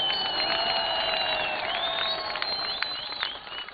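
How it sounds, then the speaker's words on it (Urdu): A large crowd at a political rally in Pishin, Balochistan claps and cheers in a dense, sustained wash, with sharp whistle-like calls rising over the din. "ایک بڑی تالی تو بنتی ہے نا"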